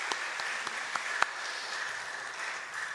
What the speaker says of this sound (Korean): 우리 크게 박수로 격려하시고 또 축복해 주시면 좋겠습니다